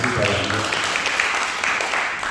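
Church congregation applauding together, a steady dense crowd clapping that fills the space, with background music or voices underneath.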